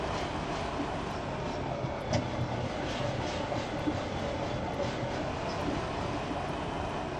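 Trains rumble along the tracks in the Farming Simulator 2015 video game, a steady dense roar with faint clattering and occasional soft knocks, continuous and fairly even throughout.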